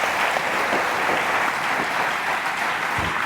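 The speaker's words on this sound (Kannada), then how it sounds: "ಅಂತಹ ಆ್ಯಪನ್ನು ತಯಾರು ಮಾಡಿರುವಂಥ ಆ ಸಾತ್ವಿಕನ ಹೋಗಿ ಎಲ್ಲರೂ ಚಲೋ ಚಪ್ಪಾಳೆ ಹೊಡೀರಿ" An audience at a Guru Purnima gathering in a village school claps together in a steady, dense burst of applause that fills the room and holds evenly throughout, with no voice over it.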